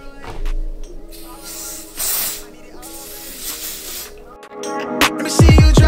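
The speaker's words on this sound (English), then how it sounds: "We're going to use Urban Melt Spray." Urban Melt spray being spritzed onto a 24-inch straight lace wig during an install, several loud hissing bursts close to the microphone, separated by brief pauses and light handling noises.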